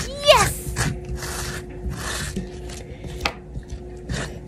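A knife cuts through bitter gourd (ampalaya) on a board in a few separate crisp strokes, with a voice speaking briefly over the start and some rubbing and scraping between cuts.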